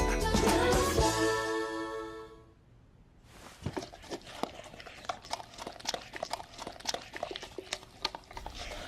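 A dog moves from plate to plate eating in a Geico commercial, with rapid lapping and clicking chews in a busy irregular patter after a loud opening burst of sound.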